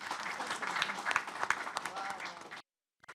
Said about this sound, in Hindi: उदित नारायण पांडे जी का एक बार तालियों से स्वागत कर दीजिए